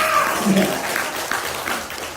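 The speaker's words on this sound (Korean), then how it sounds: "박수를 세게 쳐야 되지" Church congregation clapping at a Wednesday ventriloquism performance, a dense, steady patter of hands lasting a couple of seconds with a few voices mixed in underneath.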